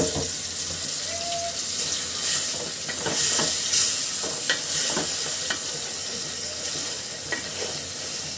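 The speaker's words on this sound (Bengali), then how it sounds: "মাংসার মশলাটা খুব ভালোভাবে মিশিয়ে নিব খুব সুন্দর করে" Beef pieces are stirred with spice masala in a hot pan, with a steady sizzle overlaid by irregular scraping and clinking of the spoon against the pan. It is moderately close and has no talking.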